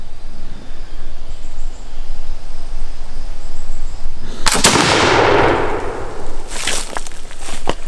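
A flintlock musket loaded with 70 grains of 3F powder fires one loud, sharp shot after a quiet outdoor stretch with faint insects, followed by a rolling echo and a second crack.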